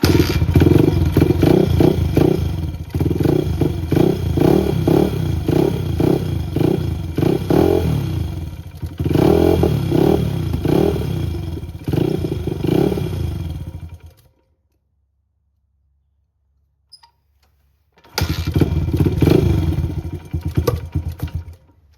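A Honda XR100 motorcycle engine is running after an idle-screw tune-up. It chugs with an uneven, loud throb, cuts out at about fourteen seconds, and after a few seconds of silence fires up again and keeps running.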